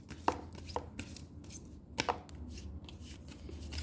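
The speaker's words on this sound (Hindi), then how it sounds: "थोड़ा सा मैं शफल कर लूँ।" Tarot cards being shuffled in the hands, a run of soft riffling slaps and clicks with a few sharper snaps, steady and close with no talk.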